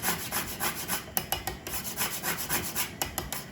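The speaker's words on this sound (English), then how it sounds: "I'm gonna grate this like I'd be grating cheese till I get about the same amount as over there." Whole nutmeg is scraped over a grater, the way cheese would be grated, in quick repeated rasping strokes, close and fairly soft, with a few brief pauses.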